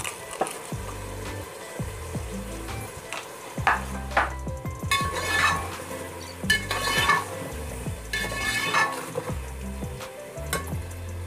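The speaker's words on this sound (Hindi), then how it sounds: "थोड़ा सा पानी डाल के भून लेंगे" Spices such as turmeric, red chili powder and garam masala are stirred and roasted in a pan for veg pulao, giving a steady sizzle with repeated scraping and clinking of a spoon against the pan, close and fairly loud.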